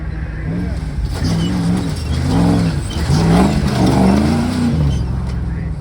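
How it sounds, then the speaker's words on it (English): An 800-horsepower Gymkhana car with active aero revs its engine at the Goodwood Festival of Speed, a loud throaty drone rising and falling through several surges while voices talk over it. "this is the Gymkhana car, so it's got huge suspension travel, 800 horsepower, active aero, the whole shebang"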